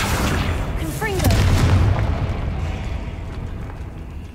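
A Confringo blasting spell from Hogwarts Legacy goes off inside a decaying catacomb as a single deep booming blast that swells and then rumbles away over a dark, ambient background.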